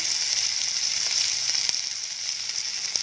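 Cumin seeds and ginger-garlic paste sizzle steadily in hot oil, a loud continuous frying hiss with small crackling pops, no voices.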